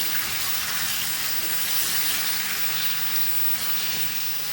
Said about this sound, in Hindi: चिकन हमारा अच्छी तरह से फ्राई हो रहा है